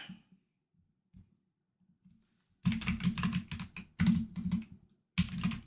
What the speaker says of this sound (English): it's a very clicky clacky keyboard